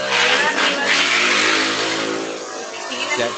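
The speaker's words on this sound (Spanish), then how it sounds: "Ya casi te escucho. Apenas pase la moto." A motorcycle passing by outside, a loud revving engine roar that swells early and then fades as it moves away.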